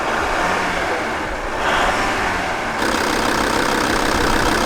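A worn, high-mileage scrap car idles steadily with a faintly tappy engine note, heard close up against a continuous broadband wash of noise with no talking.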